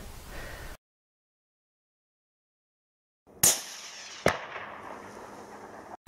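A single sharp rifle shot cracks out during a night fox shoot after a stretch of silence, leaving a long fading echo, followed a moment later by a second, quieter sharp report.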